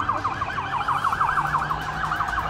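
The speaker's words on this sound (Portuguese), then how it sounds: "Viatura em velocidade." A police siren wails in a fast, repeating up-and-down yelp, steady and fairly loud throughout, with a low vehicle rumble underneath.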